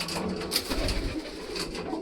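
Pigeons perched on a house roof during rain coo softly at a moderate distance, a few low repeated calls over a faint, steady background.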